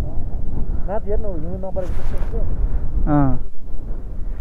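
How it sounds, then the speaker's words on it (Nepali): Strong wind gusts roar across a mountain village in Mustang, buffeting the microphone in a steady, loud rush while people talk over it. "यस्तो हावा चलेको त अनि उडाउला झै गर्ने"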